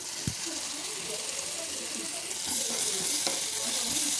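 Ground tomato and peanut chutney fries in a pan over a turmeric-and-mustard tempering, giving a steady close sizzle that swells slightly partway through.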